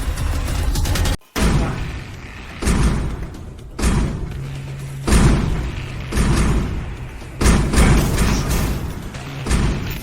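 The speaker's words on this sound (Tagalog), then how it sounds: "Wasakin ang pinto." Heavy blows smash against a reinforced titanium door, several loud thuds and crashes spaced apart with brief pauses, each strike booming and echoing, with no talk over them.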